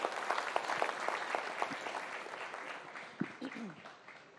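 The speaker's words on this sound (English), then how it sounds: "Please applaud louder." An audience claps in a sustained round of applause at a live televised event, a dense patter that gradually fades, with a faint voice near the end.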